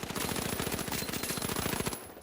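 Sustained automatic gunfire in the video game The Finals, a rapid, evenly spaced burst of shots fired without moving that runs for about two seconds and then stops.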